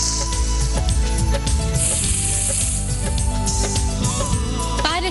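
Pure ghee tadka sizzles hard in a pan as spices temper, a dense, continuous crackle and hiss with occasional stirring clinks, loud and close.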